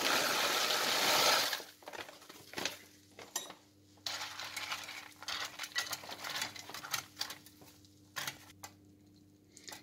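Boiling water splashes into a pan of vegan soy kebab with melted Knorr stock, a loud rushing hiss for over a second, then scattered clinks and light clatters of utensils against the pan.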